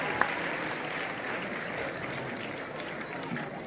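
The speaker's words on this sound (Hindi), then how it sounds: "तालियों की करतल ध्वनि से इन क्षणों का अभिनंदन और स्वागत।" Steady applause from a large crowd at a state foundation day ceremony in Gwalior, Madhya Pradesh, a dense even patter that carries on without a break.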